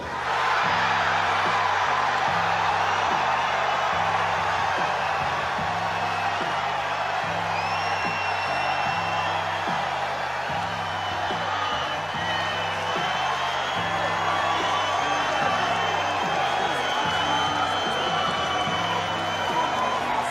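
A bodybuilding contest crowd at Mr. Olympia cheers and whoops in a dense, continuous roar, with a booming rhythmic music beat running steadily beneath it.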